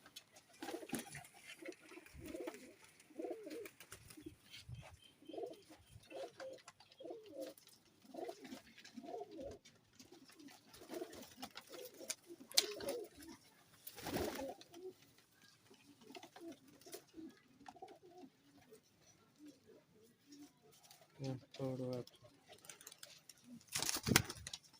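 Pigeons coo in repeated soft, throaty bursts at a steady rhythm, fairly close, with a few brief voices and rustles mixed in.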